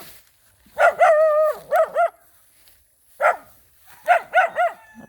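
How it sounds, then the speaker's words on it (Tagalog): A dog barks in short bursts near a spring where people fetch water, one drawn-out bark followed by quick doubled and tripled yelps, a pause, then another flurry of sharp barks, clear and close. "Natahulan pa ako ng aso."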